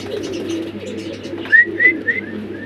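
Pigeons in a cage at a woman-run breeding farm, some large Giant Homer birds, give soft close coos over a low background hum, with a short run of rising whistled coo notes near the end.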